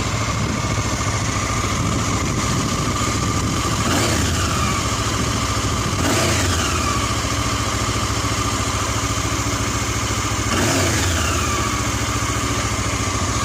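A 2000 Honda CB 500 S twin-cylinder motorcycle engine idling quietly and steadily close by, with a few brief sweeping noises passing over the even hum.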